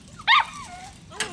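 A puppy gives a short, high whine up close, then a fainter drawn-out whimper and a quick yip.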